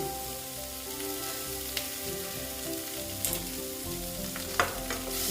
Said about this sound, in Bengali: আমি এটাকে আলুটাকে ভালো মতো ভেজে নেবেন